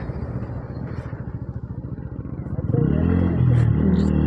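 A naked motorcycle ridden straight down a road gives a close, pulsing engine thrum that rises into a louder, smoother rev partway through, with wind noise around it.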